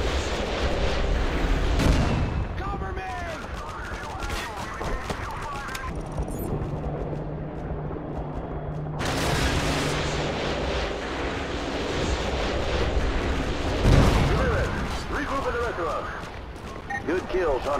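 Artillery fire and explosions in Call of Duty Modern Warfare, with loud booming blasts that come and go over a dense rumbling battle bed, while voices and radio chatter run throughout.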